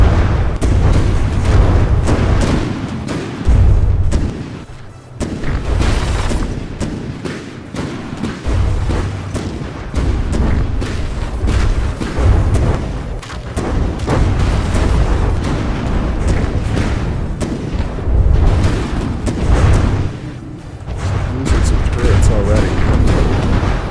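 Torpedoes from a battleship explode in a naval video game, a series of loud heavy booms and rumbling blasts spread through the scene, with voices talking between and over them.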